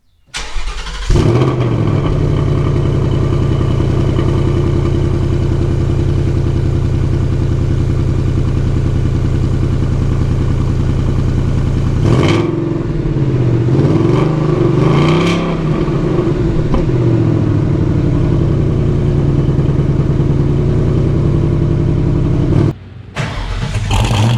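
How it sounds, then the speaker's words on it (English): A 2020 Ford Mustang GT with H-pipe exhaust and resonator delete cold-starts, then holds a loud, steady idle with a deep rumble close by. A brief rev-like swell comes midway before a short dip near the end. "Let's get that cold start. Fire it up."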